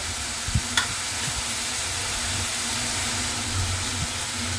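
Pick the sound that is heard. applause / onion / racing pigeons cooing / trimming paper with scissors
onion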